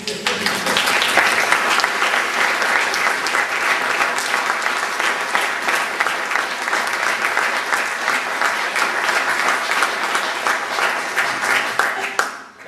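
An audience at an Eagle Scout court of honor claps steadily for about twelve seconds, a dense and loud wash of applause that holds evenly and then stops abruptly.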